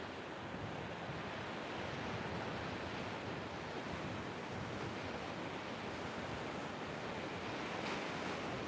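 Pacific Ocean surf rolls against a rocky coastline in Kochi on Shikoku, Japan: a continuous, even wash of breaking waves mixed with wind noise, with no voices.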